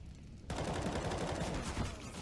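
Gunfire erupts in an ESL Pro League esports match between Fnatic and NIP. After a brief lull, a dense burst of loud, rapid shots and game noise holds steady to the end.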